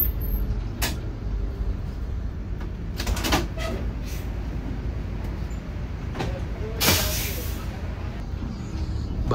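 A Mercedes-Benz 1626 bus drives along with a continuous low engine and road rumble heard from inside, broken by a few sharp hissing bursts, and people talk over it.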